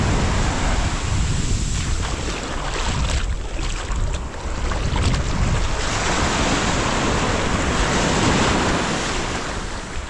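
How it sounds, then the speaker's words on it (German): Sea waves wash onto the coast of South Korea, reached by bicycle, a loud continuous surf roar heavily mixed with gusting wind buffeting the microphone. "Da ist es! Das Meer!"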